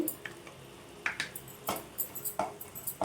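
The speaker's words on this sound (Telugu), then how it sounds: "ఇంకా దగ్గర పడేంత వరకు కలుపుకోవాలండి" Coconut laddu mixture with cardamom powder being stirred in a pan over heat: soft scraping strokes and light clinks come in an irregular rhythm above a faint sizzle, close and quiet.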